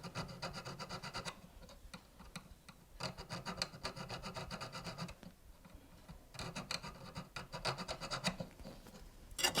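A small round file rasps back and forth, carving a groove into a twisted hoop earring wire. The strokes are quiet and close, coming in uneven bursts of scraping with short pauses, and there is no talking.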